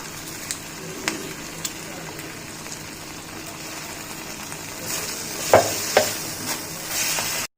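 Garlic fries in a wok with a soft sizzle under sharp clinks and scrapes of stirring, the sizzle swelling louder toward the end.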